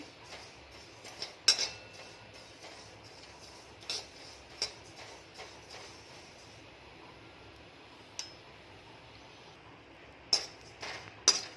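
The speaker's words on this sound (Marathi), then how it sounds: "आता मी जिरं भाजून घेत आहे" Cumin seeds dry-roast in a pan for thalipeeth bhajani flour, with sparse, faint clicks and light clinks from stirring scattered over a quiet background.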